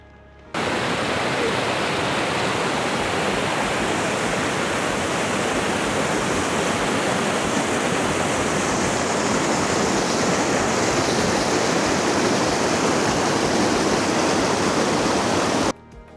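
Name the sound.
waterfall at Plitvice Lakes, Croatia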